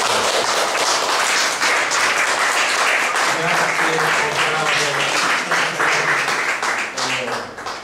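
Audience at an Italian cultural event clapping loudly and continuously, with a few voices murmuring underneath as the applause begins to fade.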